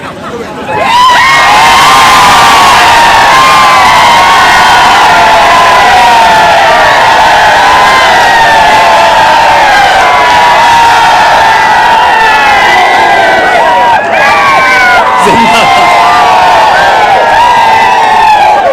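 A large crowd at a political road show rally shouts and cheers loudly and continuously for well over fifteen seconds, a dense roar of whoops and yells close by.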